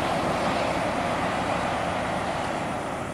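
A bus on a road in Tebo passes with a loud, broad engine and tyre roar that is steady and close, then fades slightly toward the end. No one speaks.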